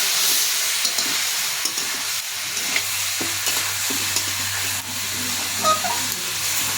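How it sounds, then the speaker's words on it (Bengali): Mutton cooks down with spices in a hot pan, a steady sizzle under repeated scraping and stirring strokes, with a low hum running beneath and a brief clink near the end; no one speaks. "এখন মাংসটাকে ভালো করে কষিয়ে নিবে।"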